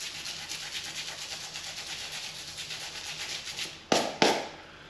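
A rubber eraser scrubs rhythmically against a sanding disc to clear resin buildup, a close, repeated rubbing scratch, ending in two sharp louder swipes, with no talk.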